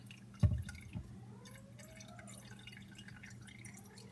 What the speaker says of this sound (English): you'll just lift this out, kind of let that drain